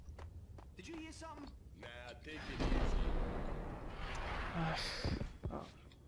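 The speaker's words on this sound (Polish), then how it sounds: "ktoś do mnie od tyłu strzela jeszcze" Gunshots ring out from behind the player in the video game Max Payne, loud sustained blasts with a booming low end amid game noise, preceded by a few brief voiced sounds.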